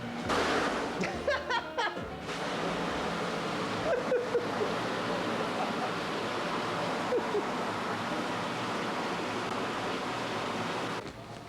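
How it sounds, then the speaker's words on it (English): Hot water rushes steadily into a brewery mash tun in a steady broadband pour, with clattering handling noises at the start and a few brief thumps along the way. "Now we're going to begin the transfer of the hot water into the mash tun."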